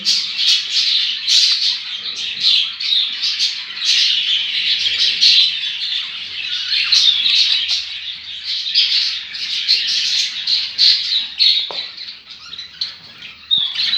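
Many canaries chirp and twitter continuously in a busy, high-pitched chorus, close by, with no talking.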